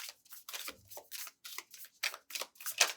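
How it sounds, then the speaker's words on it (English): Quick riffle shuffling of a Star Seeker tarot card deck, a run of short crisp papery bursts in an irregular rhythm, close and fairly quiet with no talking. "You can check out that shuffle on this deck."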